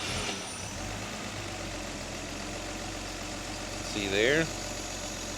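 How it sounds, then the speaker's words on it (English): A Mercedes Pagoda six-cylinder engine idles smoothly and evenly close by, with a brief rise in revs near the end and a person talking over it. "We're going to go ahead and fire it up and show you how this works."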